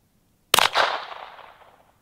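A single sharp 17 HMR rifle shot cracks out while sighting in outdoors, followed by a ringing echo that decays over about a second and a half.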